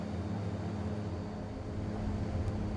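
A YS-11 airliner's turboprop engines in Microsoft Flight Simulator drone steadily and loudly at a constant pitch, with a deep layered hum that carries through the whole moment and no speech.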